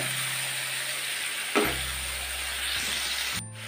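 Boal (sheatfish) sautéing in hot oil in a pan, a steady close sizzle and hiss with one brief clatter partway through and a short rattle near the end, no voices.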